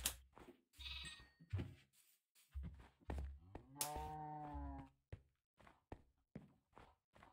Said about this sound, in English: Oh, there's 4 sheep.